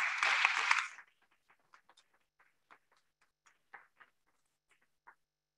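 A short, dense burst of audience applause for immigrant workers at a Staten Island public input session lasts about a second, then fades into a few scattered, faint claps.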